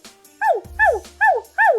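Dog barking in the Toca Boca Life World game, four evenly spaced, close, clear barks in quick succession with no talk.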